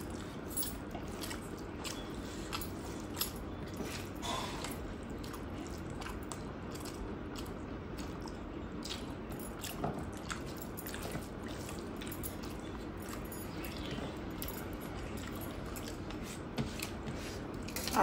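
Close, quiet chewing and wet squishing of rice eaten with prawn curry and fish curry, soft irregular mouth and finger sounds over a faint steady background hiss.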